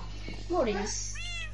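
A cat gives a single drawn-out meow, rising and then falling, close and clear over a steady low hum, with a short squeaky trailing note at the end.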